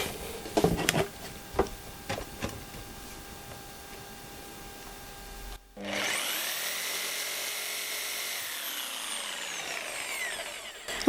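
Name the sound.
power saw with fine blade cutting hardwood door panel corners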